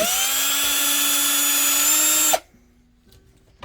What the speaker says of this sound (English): Ooh, I got a drill right here.